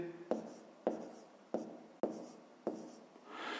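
Numbers being written on a board during a fifth-grade math lesson: five distinct scratchy strokes, each starting with a sharp tap, spaced about half a second apart, fairly faint and with no talking.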